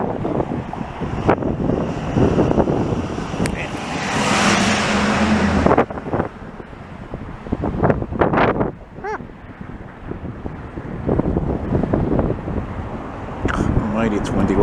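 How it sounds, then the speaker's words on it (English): Gusty wind buffets the microphone outdoors on a windy Montreal afternoon near rail tracks, a loud rumbling roar that swells and eases in waves, with indistinct voice sounds at moments. "It's windy"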